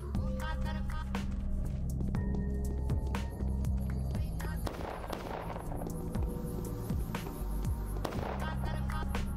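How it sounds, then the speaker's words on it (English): Dense, continuous gunfire in the video game Pathologic Classic HD crackles and pops in rapid bursts over a low rumbling background, with some sharper cracks standing out. "That's a lot of gunshots"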